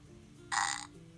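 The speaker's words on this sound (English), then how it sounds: "It burped." WowWee Fingerlings interactive baby monkey toy gives a single short electronic burp, loud and close against a quiet background.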